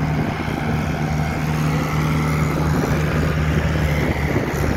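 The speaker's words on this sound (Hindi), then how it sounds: "देखिए दोस्तों किस हिसाब से ट्रैक्टर कितने ज़्यादा जोर लगाना पड़ रहा है ट्रैक्टर को ऊपर आने के लिए।" An older Mahindra tractor hauls a loaded trolley up a slope, its engine labouring in a steady, heavy low drone that holds without a break, close by and loud.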